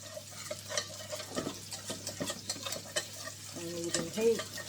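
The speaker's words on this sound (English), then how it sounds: "Just keep mixing it around" A flour roux for macaroni cheese is stirred in a pan over medium heat, with soft continuous sizzling, scraping and light clinks of the utensil against the pan, close and fairly quiet with a low hum beneath.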